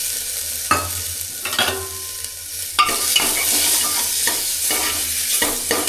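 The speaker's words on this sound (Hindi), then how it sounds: "अब इसके अंदर टमाटरों को भी कर लेता हूँ फ्राई में।" Tomatoes join onions frying in a pan, a constant close sizzle punctuated by spatula strokes, growing louder and denser as the tomatoes go in partway through.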